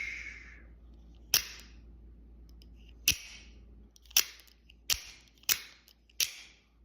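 A Microtech Ultratech OTF automatic knife with a satin-finish Bohler M390 blade fires out with sharp, loud mechanical snaps. Six distinct clicks come at irregular intervals over a quiet background, with no talking.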